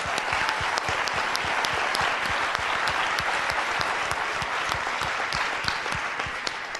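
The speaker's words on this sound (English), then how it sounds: "I want everybody to give her a round of applause." A live audience at a talk on connecting with people applauds steadily, with dense overlapping claps that hold a full, even level for about seven seconds.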